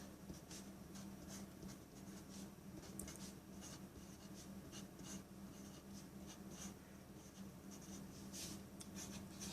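Handwriting out a math solution: continuous soft scratchy strokes of a pen on a writing surface, close and fairly quiet, with no talking.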